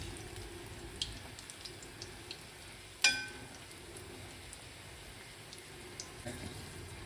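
Bajji frying in oil over a medium flame, a quiet continuous sizzle with sparse light pops and one sharper clink partway through, no talking.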